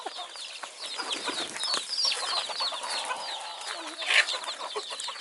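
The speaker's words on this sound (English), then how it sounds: "the chickens are going to have a ball with that" Chickens clucking and squawking together in a busy, continuous chatter, with one louder call rising briefly near the end.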